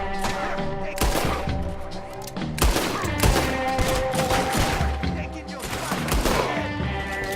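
Gunfire from weapons in the video game Red Dead Redemption 2: a series of loud, sharp shots and bursts, with several heavy cracks spaced across a backdrop of rumbling game ambience.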